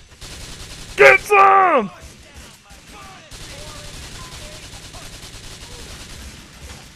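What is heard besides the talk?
gunfire in video game Grand Theft Auto IV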